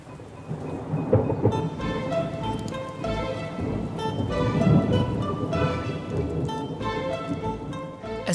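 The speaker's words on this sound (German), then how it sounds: "Von diesem bisschen Regen lässt sich aber niemand aufhalten." Thunder rolls over steady rain in the mountain village of Visperterminen, with the rumble building and fading while rain patters continuously on surfaces nearby.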